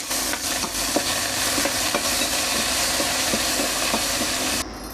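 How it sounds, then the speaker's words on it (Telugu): Green chillies, curry leaves and coriander fry in hot oil for pulihora, a steady loud hiss and crackle with faint rhythmic spoon scrapes, no voices. "అలాగే కొద్దిగా కరివేపాకు మరియు కొత్తిమీరను వేసుకుని ఫ్రై చేసుకోవాలి."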